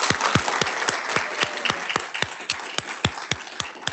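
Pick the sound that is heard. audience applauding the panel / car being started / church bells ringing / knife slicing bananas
audience applauding the panel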